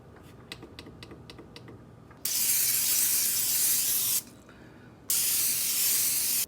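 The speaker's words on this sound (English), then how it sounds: "So our pans are sprayed" Cooking spray hisses onto baking pans in two long bursts of about two seconds each, close and loud, after a few light taps and clicks.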